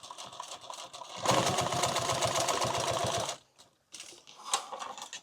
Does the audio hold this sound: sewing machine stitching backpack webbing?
yes